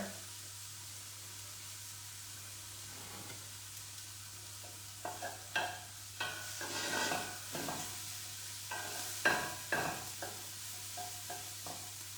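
Onions for a chilli fry quietly in a pan while a utensil stirs them, giving soft, repeated scraping strokes over a low sizzle.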